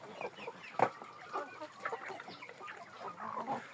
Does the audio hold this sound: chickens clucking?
yes